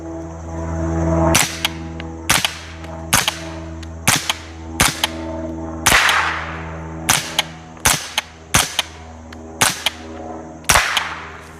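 Suppressed Matador Arms Mat9k 9mm carbine firing outdoors: about a dozen sharp, cracking shots, some in quick pairs and others spaced out, over a steady low background hum.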